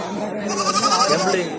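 Goat or lamb bleating amid the bustle of a livestock market, a wavering cry close by over a steady crowd murmur and voices.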